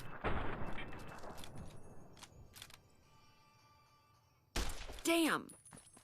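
A few sharp gunshots crack in the video game Fallout: New Vegas, an opening blast followed by a quieter lull and then another loud burst of shots near the end.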